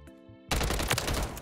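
Automatic gunfire from the video game Warzone, fired at bots: a dense, loud burst of rapid shots starting abruptly after a brief quiet moment and running to the end without pause.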